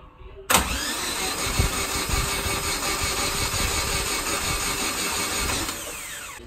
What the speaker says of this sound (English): Holy shit, it cranks!